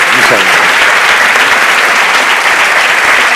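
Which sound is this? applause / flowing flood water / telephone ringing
applause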